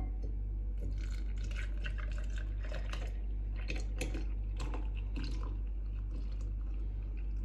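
Cold coffee poured into a glass while making a chilled coffee glacé dessert, a light trickling and dripping of liquid with small irregular splashes over a low, constant background hum.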